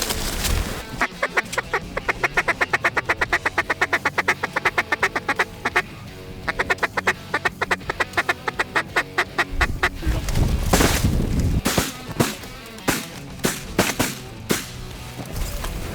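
Mallard ducks quacking loudly and rhythmically on a cold-weather duck hunt, likely a caller's repeated quacks, followed by several sharp, booming shotgun blasts near the end.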